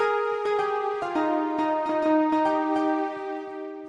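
A song plays on Fortnite music blocks in the video game as a bright, bell-like melody of evenly spaced plucked notes, each ringing briefly, clear and alone.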